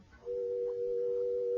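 A telephone tone starts after a brief pause and holds as a steady, clean hum over faint background hiss in an old radio drama.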